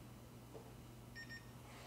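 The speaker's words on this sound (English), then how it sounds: "Now you hear the beep sound." A short electronic beep, two brief high tones in quick succession, from a Neousys PB-9250J computer starting up, over a steady low hum of machinery.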